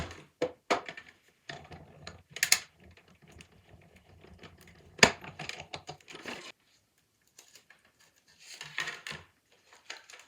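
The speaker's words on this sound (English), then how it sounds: "let's go ahead and run this through our embossing machine" Card and vellum are run through a papercraft embossing machine, giving irregular clicking, clattering and rubbing mechanical noises in short bursts with quiet gaps between, close and fairly faint.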